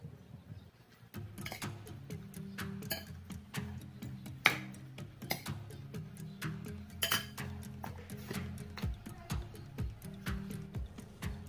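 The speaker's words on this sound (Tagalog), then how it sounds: "Ihalo ang kamatis at sibuyas at haluin lang natin ng sagayan" A spoon clinks steadily against a bowl while chopped tomatoes and onions are mixed for an eggplant salad, in quick repeated taps with a faint hum behind.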